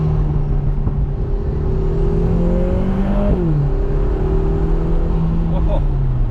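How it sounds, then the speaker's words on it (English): A Lotus Emira accelerates hard with a loud engine drone and rising turbo whine, pitch climbing then dropping sharply mid-way as the blow-off valve releases before the engine pulls again, all heard close from inside the car. "You get the very pronounced turbo whine. You get the blow off, which is hilariously present."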